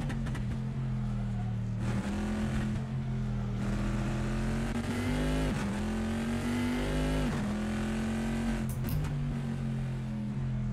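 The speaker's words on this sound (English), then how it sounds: "See how the car bogs down a little bit coming out of the corner because of the amount of traction control I have on" A GT2 race car on track at Laguna Seca in Assetto Corsa drones loudly and continuously, its engine note dipping and bogging coming out of a corner before climbing again, heard from inside the car.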